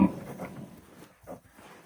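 A sow and her piglets grunting on a farm, a few short low grunts close by, the first loudest and a softer pair following.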